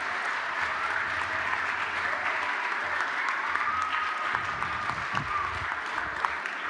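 Sustained applause from a school chapel audience at a Christmas service, steady and even for several seconds with no speech over it.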